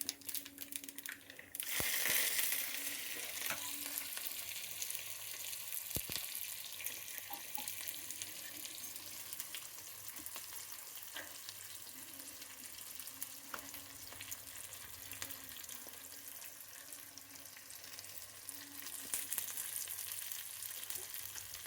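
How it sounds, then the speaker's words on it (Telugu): Steady sizzling of spices tempering in hot oil for dal, continuous and close, with occasional clinks of a utensil; no voices. "ఇప్పుడు పోపు పెట్టేస్తున్నాను అనమాట"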